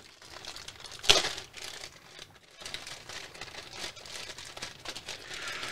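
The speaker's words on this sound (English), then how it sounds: "Since I don't have a knife, I'm just gonna have to tear these apart." Plastic parts bags torn open by hand, a sharp rip followed by continuous crinkling and rustling of plastic, close and fairly loud throughout.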